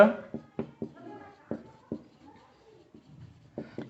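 Pen strokes on paper for an English exam lesson, a series of short, close scratching taps in an irregular rhythm, faint and mostly alone.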